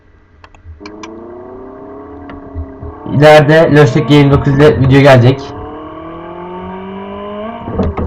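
A Lamborghini Huracan mod in the Live for Speed racing game hums as it drives, its engine tone rising gradually, with someone talking over it in the middle stretch.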